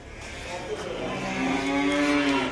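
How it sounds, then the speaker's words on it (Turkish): Spotted cattle at a busy livestock market in Akhisar, Manisa, with one drawn-out moo swelling louder toward the end, close by, over a murmur of market noise. "Alaca inekler falan var."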